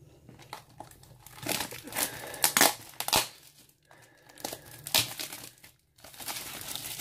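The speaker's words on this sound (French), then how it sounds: "Donc on va s'ouvrir ça et choisir 6 boosters pour cette première partie." Trading card booster pack wrappers crinkle and tear as they are opened, in quiet, close, irregular bursts of crackling plastic with short pauses between them.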